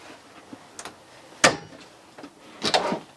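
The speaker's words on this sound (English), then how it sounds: "Drawers." Drawers in a 2015 Forest River Dynamax REV 24 TB Class B+ motorhome slide and thump shut, with a few quiet rattles and two sharper bangs close by in a quiet interior.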